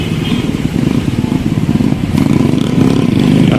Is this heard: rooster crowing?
no